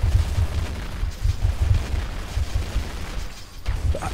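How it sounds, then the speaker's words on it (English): Rapid bursts of gunfire and low booming shots in Counter-Strike repeat almost without pause, a dense, constant barrage of combat noise. "It's just constant gunfire"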